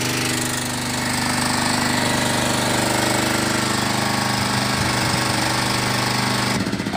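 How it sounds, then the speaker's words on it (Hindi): A Honda petrol generator runs under load from household appliances, giving a loud, continuous, steady engine drone with a rough mechanical chatter that shifts abruptly near the end. "अब मैंने जनरेटर बंद कर दिया"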